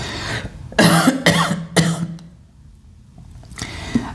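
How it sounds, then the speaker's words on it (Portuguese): A person coughs in a quick burst of three sharp coughs close up, followed by a quieter pause and a final cough. "Eu quero tossir, mas tossir brava."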